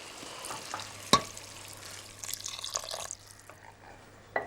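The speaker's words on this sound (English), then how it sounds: "And now some water." Water splashes into a pan of frying mince seasoned with Worcester sauce, a loud sizzle and bubbling rising close by, with a sharp clatter partway through and a fainter knock near the end.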